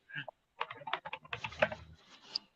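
Close keyboard typing, a brief cluster of quick irregular key clicks, with faint speech mixed in at the start.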